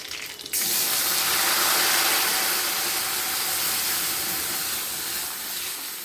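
Dal is poured into a pan of fried curry leaves, a sudden loud rush of liquid that settles into a sustained hissing, bubbling sizzle, close and steady.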